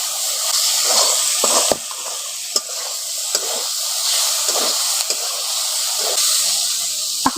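Fried snake gourd stirred with potatoes and spices in a hot pan, a steady close sizzle and hiss with occasional scraping and tapping from the spatula against the pan, no voices.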